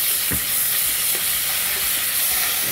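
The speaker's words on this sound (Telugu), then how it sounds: "ఉల్లిపాయలు వేగాక కొంచెమే అల్లం వెల్లుల్లి పేస్ట్ వేయాలి" Onions fry with ginger garlic paste in a one-pot masala rice, a close, continuous sizzle and hiss with a few soft stirring knocks and no voices.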